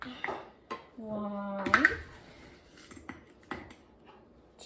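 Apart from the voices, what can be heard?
measuring cup scooping sugar for pineapple cake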